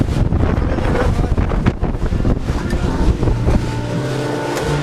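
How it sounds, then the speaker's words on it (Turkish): Strong wind buffets the microphone in a continuous loud roar, with gusty rumbling throughout and no voices, on a glass terrace atop a 300-metre skyscraper. "Çok fazla rüzgar geldi."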